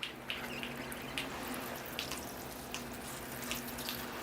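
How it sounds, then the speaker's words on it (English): Water pours from a watering can onto a repotted volunteer elm bonsai, a close continuous splashing stream with small irregular spatters as it hits soil and pot. "here I go with the watering"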